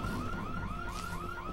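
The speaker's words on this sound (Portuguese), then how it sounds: "Eu não vou desativar o alarme, não." Car alarm in the Dead Island video game, a steady wailing electronic tone sweeping up and down in a rapid repeating cycle, loud and continuous with game background noise underneath.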